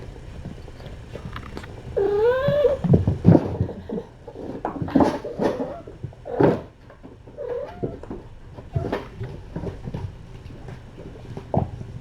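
Tiny kittens meow and scuffle during playtime, with a clear rising meow early on followed by scattered squeaks, thumps and rustling bursts up close.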